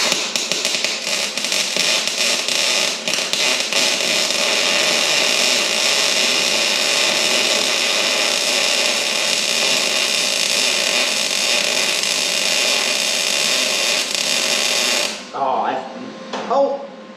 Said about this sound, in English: can get this welded up here